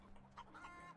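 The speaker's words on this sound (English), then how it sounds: "They look like Earth chickens." Chickens in The Outer Worlds video game, a short burst of soft, close clucking over a faint steady background hum.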